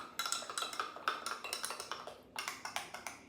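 A spoon stirs oregano into pizza sauce in a bowl, giving a quick steady run of light clinks and scrapes against the bowl, close and fairly quiet, with a brief pause before the stirring resumes, and no talking.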